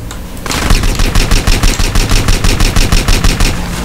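Loud, rapid automatic gunfire from a modded weapon in GTA San Andreas, a steady rattling burst of evenly spaced shots running nearly four seconds after a brief quiet start.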